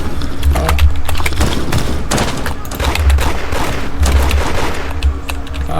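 Heavy gunfire in a shooter video game, with repeated bursts of loud shots and booming impacts that continue across the clip. A voice is faintly present underneath.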